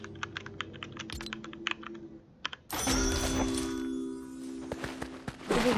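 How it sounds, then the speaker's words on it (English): A burst of rapid keyboard clicks and clacks, followed by a louder rumbling stretch with a few more taps near the end. "Well, listen to my keyboard."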